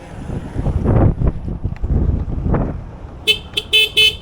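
A TVS Orbiter electric scooter sounds its horn in several short, loud, bright toots near the end, after a stretch of wind buffeting and road noise.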